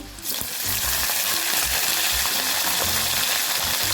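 Green chillies frying in oil in a pan for tamarind rice, a loud close steady sizzle that bursts on at the start and crackles continuously, with faint stirring clinks underneath.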